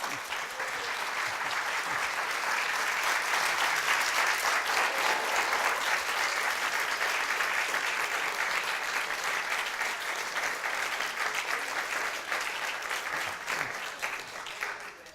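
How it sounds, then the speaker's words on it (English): A large audience at a telehealth conference applauds the speakers, steady dense clapping that holds for about fifteen seconds before starting to thin out at the end. "So I ask them to applaud."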